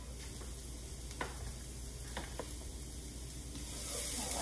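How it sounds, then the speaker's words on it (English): Onions sizzle and fry in a pan as they cook down, a steady soft crackle with a few light stirring clicks, growing slightly louder toward the end. "Then we are going to toss in our onions, and we're going to let them cook them down for about 2 minutes until they're translucent and clear"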